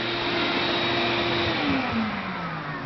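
A Ridgid shop vac runs steadily and loudly throughout, a broad whooshing roar with a motor tone that shifts slightly in pitch partway through, with no talking.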